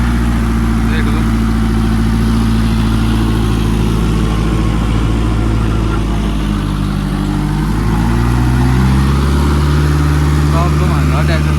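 A Kubota MU4501 tractor working a 10-foot rotavator rumbles steadily and loudly nearby, its low engine drone shifting pitch partway through, while someone talks over it.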